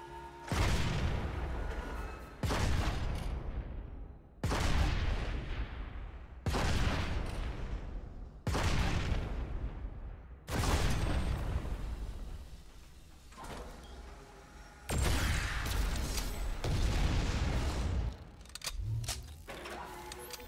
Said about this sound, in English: The anti-vehicle phalanx turret offers great defense against ground vehicles with its high explosive rounds.